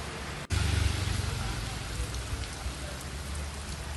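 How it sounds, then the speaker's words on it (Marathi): Steady heavy rain in Sindhudurg pours down in a constant hiss after a brief dropout at the start, with no voices. "आज सकाळपासून पावसाला जोरदार सुरुवात झाली आहे"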